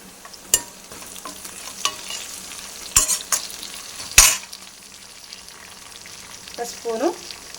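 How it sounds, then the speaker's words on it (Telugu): Onions, garlic and curry leaves fry in a pan, a steady close sizzle broken by several sharp clatters and scrapes of a spoon stirring against the metal. "ఉల్లిపాయ ఇట్లా వేగినాక వెల్లుల్లి ఉల్లిపాయ వేగినాక కట్ చేసుకున్న ఒక నాలుగు కరివేపాకు రెమ్మలు"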